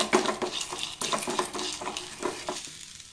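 Cumin and mustard seeds hit hot oil in a pan as tempering for a chana dal chutney, giving repeated close stirring and clinking scrapes over a light sizzle, with no talk.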